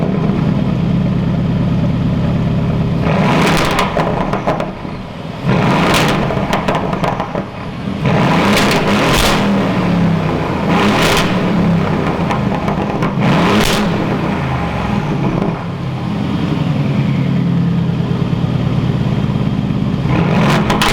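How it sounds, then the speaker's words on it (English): A 2018 Aston Martin Vantage engine roars close by on a cold start with repeated sharp revs and crackling exhaust bursts, loud and continuous, no talking. "just a proper crack and bark to that exhaust tone"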